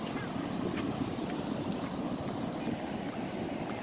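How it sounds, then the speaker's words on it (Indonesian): Waves crash and roll onto the beach at Goa Cina on the coast of South Malang in a steady, close roar, with wind buffeting the microphone throughout. "Deburan, suara deburan ombak"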